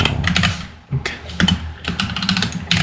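Typing on a computer keyboard while setting up a WordPress project in VSCode, heard as a close, irregular run of key clicks and taps with brief pauses and no talk.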